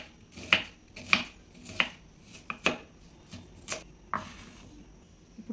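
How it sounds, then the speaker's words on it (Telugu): A knife chopping onion and tomato into small pieces on a board for a potato curry, about eight crisp, evenly spaced chops close up, with no talking. "వీటిని చిన్నగా ఇలా కట్ చేసుకుందామండి."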